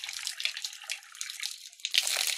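Water running from an outdoor tap in a village while someone washes their face, with a close, splashing flow that breaks up and surges, then grows heavier near the end.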